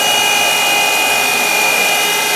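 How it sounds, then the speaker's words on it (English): A surface grinder with a pink grinding wheel works a steel setup block, a steady loud broadband hiss and whine with a fixed high tone throughout, close and alone with no talking. "And I left it right where I left off, grinding the other side."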